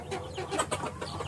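KUB chickens cluck in a series of close, quick calls with a few sharper squawks mixed in, heard on their own against a faint background hum.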